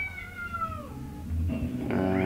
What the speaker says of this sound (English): I don't even want to film with the cat meowing.